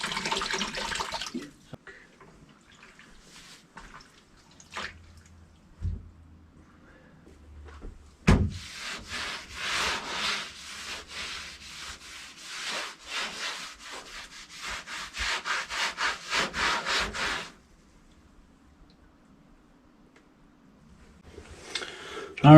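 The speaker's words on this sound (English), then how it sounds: "Gonna wipe everything down with a little bit of vinegar, a little bit of water" Rubbing and wiping strokes on a truck roof being cleaned with a vinegar and water mix, a steady run of close scrubbing swipes in the middle stretch, with quieter handling before and after.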